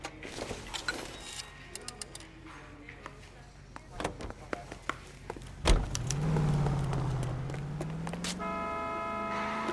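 A car in the video game L.A. Noire starts off after some clicks and thumps, its engine swelling into a steady rising hum that carries to the end, with brief speech early on.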